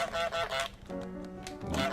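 Honking from the goose in the video game Goose, a few nasal honks in quick succession, close and fairly loud, with no talk over them.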